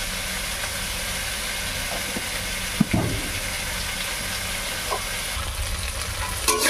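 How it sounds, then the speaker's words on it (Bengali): Potatoes fry in hot oil seasoned with salt and turmeric, a steady close sizzle running throughout with a few soft clinks and stirring knocks from a utensil, no voices. "দিয়ে এবার এই যে মেরে আলুগুলো আমার ভাজা হোক"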